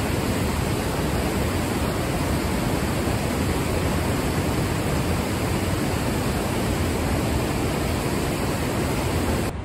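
Niagara Falls and its river roaring, a dense, unbroken wash of falling water that stays loud and steady throughout, with no voices.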